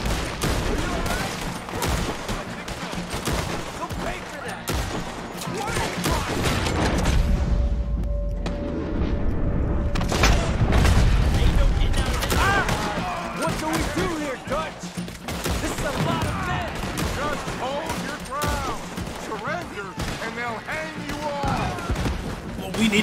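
Cannon booms and scattered gunfire from a battle in Red Dead Redemption 2, a running series of sharp cracks over a low rumble, with shouted voices mixed in throughout.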